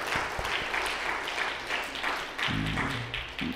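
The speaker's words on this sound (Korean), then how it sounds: "우리 박수 한번 해드릴까요?" Church congregation at a Sunday Korean service applauding the fathers on Father's Day, steady crowd clapping that fills the room, sustained throughout at moderate level.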